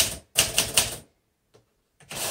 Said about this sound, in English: Love this typewriter.